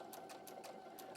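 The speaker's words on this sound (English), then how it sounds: "decorative stitches on a sewing machine can stitch up to about 7 mil wide" Domestic sewing machine running steadily through decorative stitches on a scrap of paper, a quick rhythmic needle chatter with regular bursts, close and fairly quiet with no talking.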